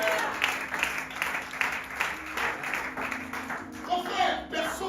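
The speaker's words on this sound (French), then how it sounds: "Est-ce que tu peux acclamer le Seigneur ce matin?" A church congregation claps and applauds through a Sunday-morning service, a steady dense wash of clapping with a voice calling over it.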